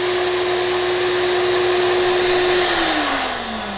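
A Milwaukee M18 Fuel cordless router draws air through an attached vacuum hose, producing a loud, steady suction roar with a constant whine that drops slightly in pitch near the end.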